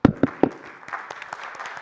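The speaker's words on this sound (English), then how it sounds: "Let's welcome her to the podium with a round of applause." A few loud, close claps open, then lighter scattered clapping from a small audience follows as a speaker is welcomed to the podium, thinning out quickly.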